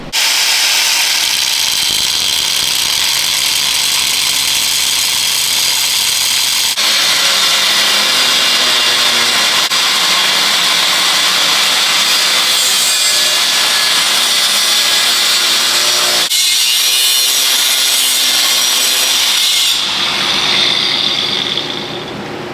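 A continuous harsh grinding and rasping of a power saw cutting through a steel pitman arm on a 6.5L diesel truck, loud and unbroken with slight changes in tone, no voices.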